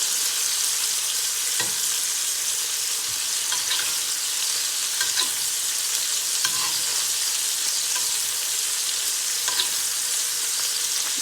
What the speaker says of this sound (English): I'm gonna milk this butter the way I can put butter on the top of the steak